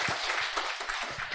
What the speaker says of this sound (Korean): 어두운 밤에도 밝은 빛으로 인도하시는 주님께 영광의 박수 드리겠습니다.